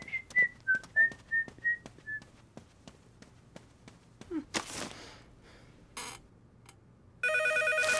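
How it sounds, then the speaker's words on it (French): A telephone in a home rings with a trilling electronic tone, then goes quiet while whistling, taps and brief noises follow, and a louder steady buzzing ring returns at the end, fairly near and with no talk. "Téléphone."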